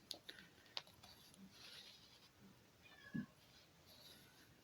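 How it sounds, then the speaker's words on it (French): Cats fighting just next door while trying to get in, a few faint yowls and meows scattered among quiet room noise with small ticks. "les chats se battent à côté pour rentrer"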